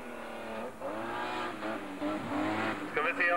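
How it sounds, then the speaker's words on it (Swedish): A BMW 325i rally car at a 1988 hill climb at Tåsjöbacken, its engine revving and rising in pitch as it climbs, rich harmonic engine tone sustained and fairly close, with possible faint tire squeal. "Hör här nu vad den sjunger i motorn när han kommer."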